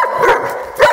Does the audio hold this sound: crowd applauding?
no